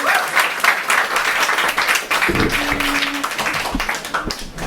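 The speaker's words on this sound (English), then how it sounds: "Please give her a round of applause for Jen." Applause from an open-mic poetry audience, a dense wash of many hands clapping that holds steady throughout, with a few louder close claps and brief knocks near the end.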